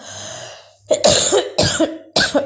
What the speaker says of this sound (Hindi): सॉरी गाइस, खांसी हो रही क्योंकि तबीयत ठीक नहीं है